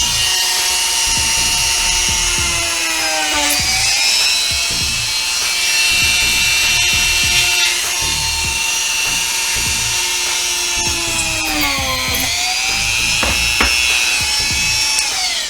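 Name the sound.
budget Dremel-like rotary tool working soft pine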